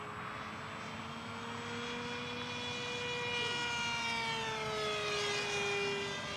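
A ReadyMadeRC Mini Skyhunter RC plane on a 3-cell 4000 battery flies aerobatically, its electric motor holding a steady whine that bends in pitch as it passes and climbs, loud and continuous with no talk.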